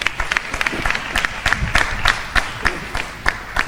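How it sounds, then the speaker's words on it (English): An audience at a live-streamed results announcement applauds, with distinct sharp claps standing out over a softer crowd patter and faint murmur, sustained and moderately loud. "Please give them a round of applause"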